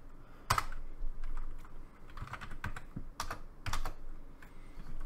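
Code being typed on a computer keyboard while programming in GameMaker 2, with irregular bursts of close, crisp key clacks separated by short pauses.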